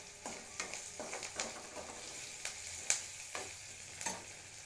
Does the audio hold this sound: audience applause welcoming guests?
no